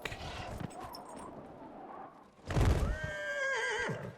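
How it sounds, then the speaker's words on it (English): A summoned horse in the video game Dragon Age: Inquisition lets out a loud, wavering whinny after a thud and faint rustling, heard up close with no speech. "Out of curiosity, can I summon my horse up here?"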